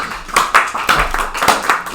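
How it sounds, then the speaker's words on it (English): A live-stream audience applauds with a short run of uneven, fairly close hand claps that come in loose bursts. "Round of applause."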